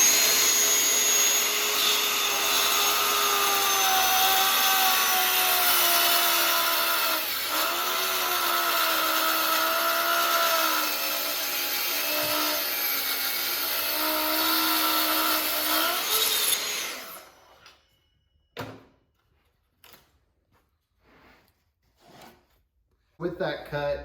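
Festool TSC 55K track saw cutting wood with a dust extractor running, a loud steady whine and whir for about seventeen seconds that then stops abruptly, followed by faint knocks and handling noises.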